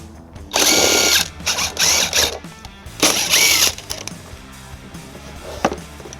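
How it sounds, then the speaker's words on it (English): A power tool with a 10mm socket removing bolts from a driver's-side panel on a 2022 Toyota Sienna, several loud whirring bursts separated by pauses, close by. "We're going to use a 10mm socket to remove them."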